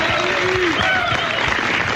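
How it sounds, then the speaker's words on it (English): A radio show's in-studio audience claps for a guest, a short burst of close applause with voices talking over it. "Give him a nice round of applause."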